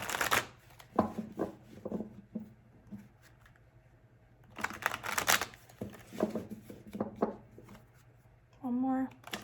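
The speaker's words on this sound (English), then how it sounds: "Do 3 more shuffles for Pisces." Tarot cards are shuffled by hand in a quiet room in quick riffling bursts separated by pauses, with a short spoken phrase at the very end.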